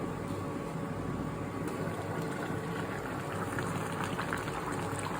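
Bhutanese fresh fish soup bubbling steadily in a covered pot over medium heat, a soft continuous simmering fizz with no voices.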